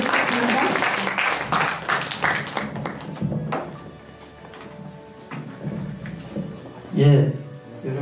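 Applause from the audience at an outdoor book concert welcoming the poet Lee Kang-san, a dense burst of clapping that thins and fades over several seconds while other sounds and voices continue around it.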